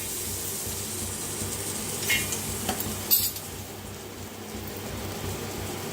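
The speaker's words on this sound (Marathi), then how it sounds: "आता गॅसवर ठेवलाय तवा, खोबरं भाजून घेऊया आपण।" Coconut roasting in a little oil on a tawa over a gas flame gives a low, steady sizzle, with a few sharp scrapes and clinks of a utensil stirring against the pan.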